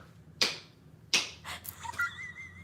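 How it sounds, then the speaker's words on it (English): Two sharp, loud smacks about three quarters of a second apart, as from a shillelagh being struck, followed by lighter clatter and a few brief high tones, with no talking. "Did you hear that? That was the sound of the shillelagh."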